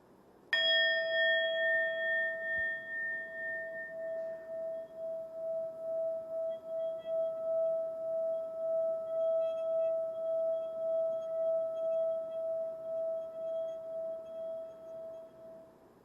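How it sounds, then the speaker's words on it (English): A mindfulness bell, struck once, rings out with a clear bright metallic tone that sustains and slowly fades with a gentle pulsing shimmer over many seconds, alone in a quiet room. "See if you can pay attention from the very first moment you hear the bell all the way to the end."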